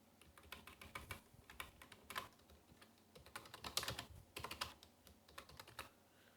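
HTML is typed on a computer keyboard, quick irregular bursts of soft key clicks with short pauses between runs, close and quiet with no voices.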